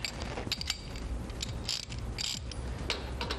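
A 22 mm socket on a ratchet tightens the axle of a TVS Star Sport motorcycle, giving quick, fairly close mechanical clicks in short bursts.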